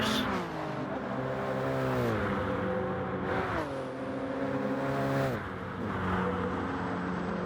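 BMW M6 race car in a racing video game, a loud continuous engine note with repeated revving climbs and gear-shift pitch drops, steady and close throughout.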